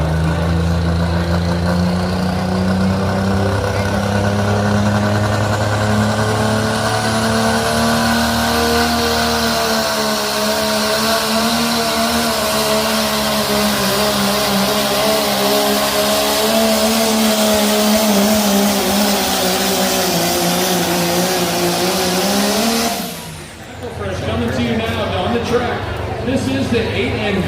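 A tractor-pulling truck at an event in Lincoln, Nebraska, roars loudly and close, its engine climbing in pitch under sustained throttle for over twenty seconds before abruptly cutting off, then surging again.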